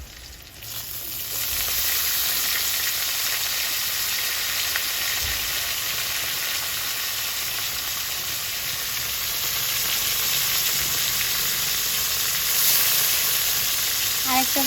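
Chopped bottle gourd peels hit hot mustard oil in a pan, a loud, dense, continuous frying hiss that swells at the start and holds steady for the whole stretch.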